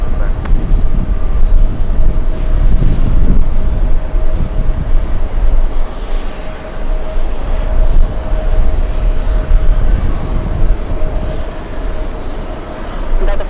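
A Korean Air airliner taxis into position at JFK airport, a loud, continuous low jet-engine rumble with wind buffeting the microphone. It rolls on steadily for the whole stretch, and no one speaks over it.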